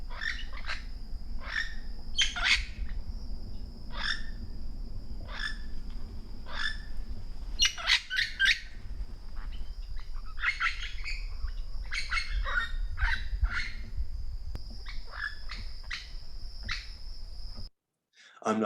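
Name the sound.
parrot squeaky call, recording from native range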